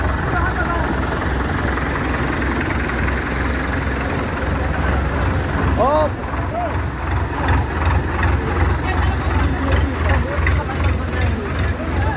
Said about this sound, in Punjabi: ਇੱਕ ਟਰੈਕਟਰ ਇੱਥੇ ਕਾਵਾਂ ਵਾਲੀ ਪਤਨ ਪੋਸਟ ਜਿਹੜਾ ਰਾਮ ਸਿੰਘ ਪੈਣੀ ਦਾ ਪਿੰਡ ਹੈਗਾ ਉੱਥੇ ਫਸ ਗਿਆ